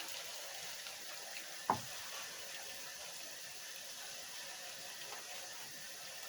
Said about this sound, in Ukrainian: І я закип'ятила воду і заливаю